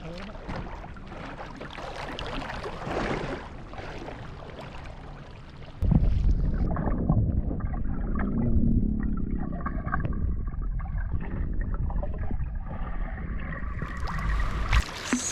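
A sea kayak moves across Lake Superior with water sloshing and gurgling against the hull under gusty wind noise, near and fairly loud, the rushing growing heavier partway through.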